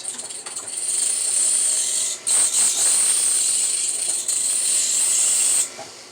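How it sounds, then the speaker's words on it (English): A worn tool tip is pressed against a spinning grinding wheel, giving a loud, steady high-pitched hiss broken by a brief gap partway through, then cutting off before the end. "I'm actually going to use one of my wheels here, and then we'll sharpen it right back up"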